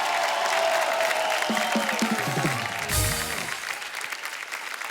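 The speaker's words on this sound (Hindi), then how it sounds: "जोरदार तालियां हो जाए एक बार बब्बर फैमिली के लिए" Studio audience applause on The Kapil Sharma Show fills the clip, with a descending musical tone sweeping through midway and the clapping thinning toward the end.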